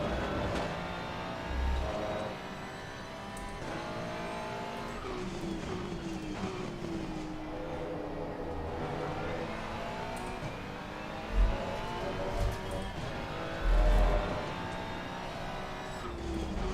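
A race car engine in the Assetto Corsa Competizione racing game, running during a 60-minute race at Valencia, revs high and steady with rising and falling pitch, fairly quiet beneath occasional brief thumps.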